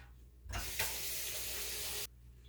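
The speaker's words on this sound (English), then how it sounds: "And I'm going to run it under cold water first." Cold water gushes steadily from a kitchen tap over an onion for about a second and a half, then cuts off abruptly.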